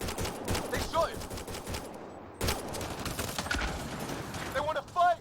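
Sci-fi weapon gunfire in the Mass Effect Andromeda game, sharp bursts and rattling shots mixed with shouting voices and combat noise, moderately loud.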